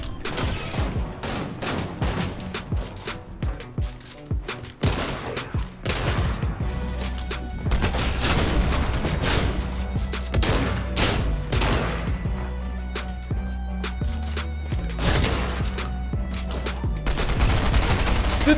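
A gunfight in the video game Fortnite brings dense bursts of rapid gunfire and crackling shots, layered over continuous game sound. The firing is loud and sustained, with brief lulls between volleys.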